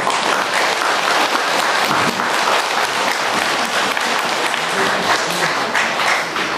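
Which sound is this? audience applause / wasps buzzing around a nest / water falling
audience applause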